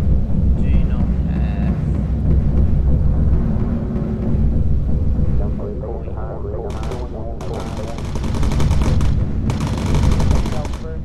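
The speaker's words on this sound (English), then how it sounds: "So we're just flying over the flak at the moment" Anti-aircraft flak bursting around a bomber in the video game Bomber Crew, with heavy rumbling engine drone underneath and scattered sharp crackling bursts growing denser toward the end; a voice talks quietly over it.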